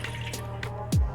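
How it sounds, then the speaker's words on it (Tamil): A quarter cup of water poured in while making a peanut and flattened rice laddu, heard as a few faint splashes and drips ending in one fuller low splash, with no talking. "அடுத்தது வாங்க 1/4 கப் தண்ணி சேர்த்துக்கலாம்"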